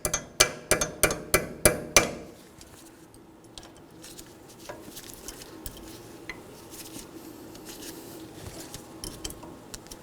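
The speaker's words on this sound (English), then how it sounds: "Make sure you peen it over." A hammer peens over the locking cotter pin on a 2013-2019 Nissan Sentra front wheel hub with about seven sharp, evenly spaced metallic blows, followed by faint scattered taps and handling noises.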